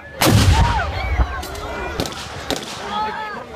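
Several loud booming blasts of artillery fire at an armed forces reenactment event in Trowbridge ring out at intervals, echoing across open ground with crackling reverberation between shots.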